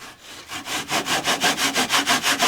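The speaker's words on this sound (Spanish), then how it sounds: "Va en su caja el serrucho" A hand saw runs back and forth in the rails of a mitre box, giving a steady rhythm of about ten raspy strokes, close and clear with no talking.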